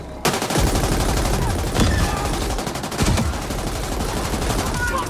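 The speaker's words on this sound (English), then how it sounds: "That was the first explosion on the loading of the game." A loud explosion in The Ascent video game, an abrupt deep boom followed by a rapid crackling barrage of gunfire-like blasts that keeps going, with further heavy thuds.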